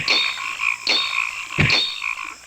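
Toads in the video game Ahriman's Prophecy croak in a steady, repeating pattern of sharp croaks about once a second, close and clear with no voices over them.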